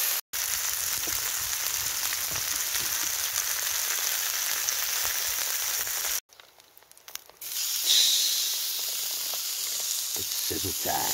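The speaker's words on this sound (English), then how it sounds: "It's sizzle time. So, burgers on." Burgers sizzle on a grill over a campfire during a rainy wild camping trip in a Scottish forest, a steady close frying hiss that drops out briefly partway through and then resumes.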